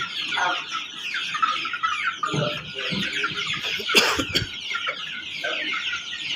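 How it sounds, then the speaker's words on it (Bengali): A busy flock of Sonali chickens on a farm clucks and chatters continuously at close range, with a brief cough-like noise midway. "সব হচ্ছে সোনালি মোরগ পাকিস্তানি এটা"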